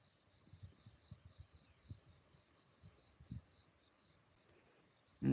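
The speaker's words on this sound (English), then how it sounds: "You can hear that slight buzzing sound in the background." A faint, steady high-pitched mosquito buzz hangs in the background of a quiet outdoor scene at sunrise, with soft scattered thumps and a louder knock at the end.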